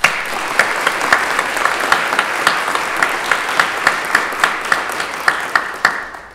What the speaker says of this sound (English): we will applaud for each of you individually